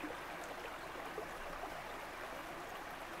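Water rushes steadily in a continuous broadband wash, like a rain-swollen forest stream in the Ardennes flowing nearby, with no other sounds.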